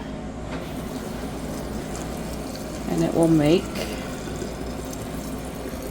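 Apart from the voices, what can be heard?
pouring steaming honeysuckle tea into a jar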